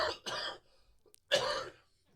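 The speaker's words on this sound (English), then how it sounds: "I still have this cough that has just been hanging around." Three sharp coughs, two in quick succession and then one after a short pause, close and fairly loud with quiet between them.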